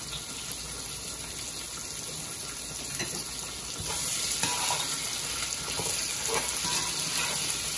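Cloves dropped into a hot oiled pot for Haitian spaghetti sizzle and fry steadily. The crackle is dense and close, swells a little louder partway through, and no one speaks.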